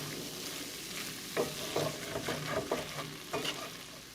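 Heavy whipping cream stirred in a hot pan to lift the browned crust while making chimichangas, giving a soft bubbling sizzle with a handful of spoon scrapes and clinks, close and moderate in level.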